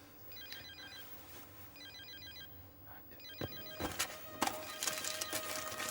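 A mobile phone rings in a TV episode with a repeating electronic ringtone in quiet bursts, then louder clattering noises build toward the end.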